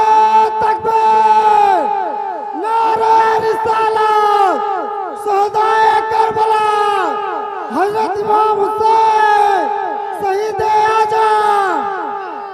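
A large crowd at a religious speech chants slogans in loud, repeated call-and-response bursts, voices surging together in rhythmic waves that fill the space.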